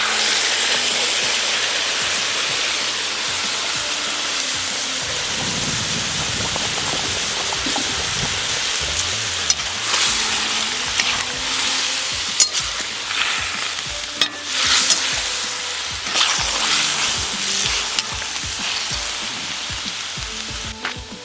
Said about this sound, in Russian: Теперь добавляем, заливаем наших перепелок ароматным грибным бульоном.